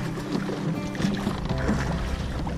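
Long oars pull a small dinghy through the water, steady splashing and knocking strokes repeating close by with a low rumble underneath, no voices.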